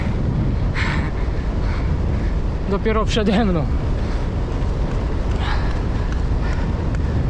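Heavy headwind roars across the microphone of a cyclist riding on a green forest bike trail, a constant, loud low rumble with someone briefly speaking over it midway.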